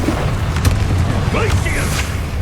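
The Confringo fire spell from Hogwarts Legacy goes off as a dense, rumbling magical blast with whooshing, crackling detail over steady low-end game ambience, loud and close, with a voice calling out amid the noise.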